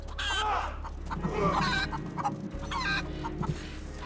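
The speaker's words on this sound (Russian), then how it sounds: "Надеюсь, на куриц кричащих они не обратят внимания." Chickens cluck and squawk repeatedly in A Plague Tale: Innocence, several birds calling in overlapping bursts close by over a steady low ambient hum.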